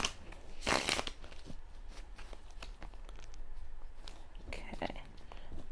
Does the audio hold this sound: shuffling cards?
yes